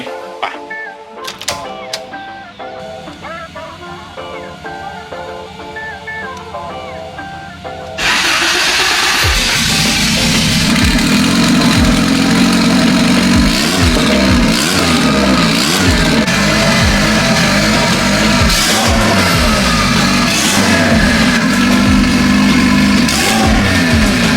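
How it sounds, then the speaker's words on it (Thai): A Honda Civic EG with a turbocharged D15B engine cranks and catches around eight seconds in, then settles into a loud, steady idle that runs to the end; before that, only faint quiet handling sounds. "เดี๋ยวเราจะไป สตาร์ทเครื่องทดสอบดูว่า การทำงานของระบบไฟหรือเครื่องยนต์ใช้งานได้ปกติไหม"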